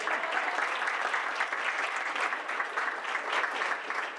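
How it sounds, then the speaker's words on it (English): Sustained applause from an audience in Reedsburg fills the moment, dense and steady clapping at even loudness with no pauses and no talk over it. "Thunderous applause, Reedsburg."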